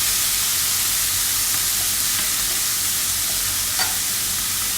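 Chicken filling with chilli sauce and vinegar is stirred and fried in a pan, a loud continuous sizzle with scraping stir sounds running throughout.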